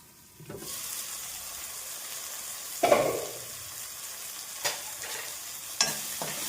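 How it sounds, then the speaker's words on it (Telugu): Gongura curry ingredients with salt fry in a covered pan with a soft, steady sizzle, broken by a few sharp clinks and scrapes of a utensil against the pan. "ఒక 2 మినిట్స్ మూత పెట్టేసి వేగనిద్దాము"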